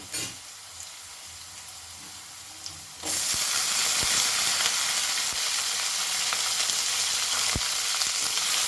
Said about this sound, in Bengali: আলুগুলো লাল করে ভেজে নিয়েছি এখন এর মধ্যে দিয়ে দেব কেটে রাখা পেঁয়াজগুলি